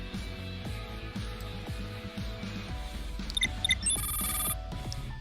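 A phone buzzes and rings inside the zombie video game Guns Girl Z, a run of electronic ringing beeps over steady game background sound, with no talking.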